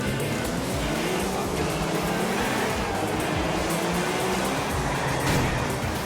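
In Grand Theft Auto IV, a car drives hard through a street race, its engine and road noise making a dense, steady roar.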